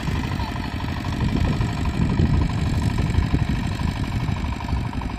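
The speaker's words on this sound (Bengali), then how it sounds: "আবাদের জমি চাষ করতেছে কৃষক পাওয়ার টিলার দিয়ে।" A power tiller ploughs a farm field in a village, its engine chugging in a steady, rough low rumble that holds at a moderate level throughout, with no talking.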